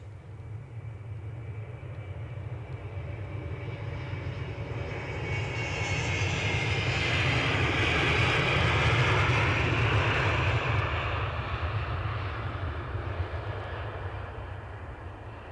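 A Ryanair airliner on final approach to Edinburgh airport swells from a distant rumble into a louder jet roar that peaks mid-pass and then slowly fades, heard outdoors with no talking.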